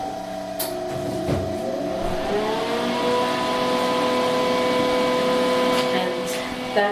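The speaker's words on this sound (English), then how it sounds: "That machine is absolutely indispensable because, as you hear, the fan has gone on." A cooling fan on a chocolate tempering machine switches on and settles into a steady, rising whir with tonal hum, loud and close, running continuously in a kitchen.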